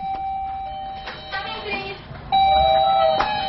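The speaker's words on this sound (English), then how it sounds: "But nowadays, they have doorbells." A doorbell chimes twice with ringing electronic tones, the second ring louder and sustained, with faint background sounds beneath.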